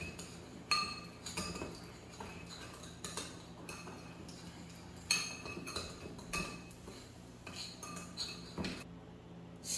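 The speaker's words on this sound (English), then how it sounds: "then you start mixing" A spoon clinks and scrapes against a bowl while peppermint cream mixture is stirred, with irregular light taps and clatters spread across a quiet background.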